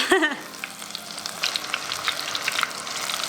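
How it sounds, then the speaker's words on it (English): Steady crackling sizzle of a tortilla frying in a pan, with a brief clunk at the start and busy popping throughout. "Because the tortilla's frying too?"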